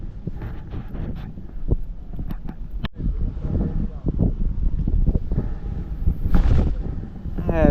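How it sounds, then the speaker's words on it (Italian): A headwind buffets the microphone by the sea during night spin fishing for bluefish and barracuda, with gusty rumbling and crackling throughout and people talking. "Teniamo un po' di vento di faccia"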